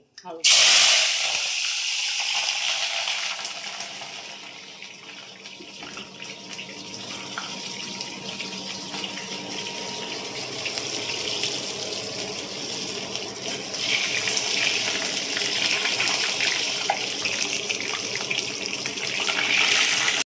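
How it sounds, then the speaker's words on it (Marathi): Green chilies frying in hot oil give a loud, steady sizzling hiss that fills the whole stretch without a break, with someone speaking faintly now and then. "तेल गरम होऊन जाईल आता मी ह्या मिरच्या यात टाकते"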